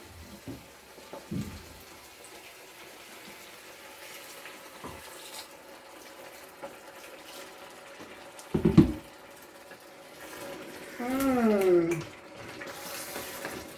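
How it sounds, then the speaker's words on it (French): Water is poured from a tap into a pan of tomato sauce with fried spinach and chicken, a short faint splash followed by a louder filling gush near the end, over quiet kitchen background. "je vais rajouter un peu d'eau"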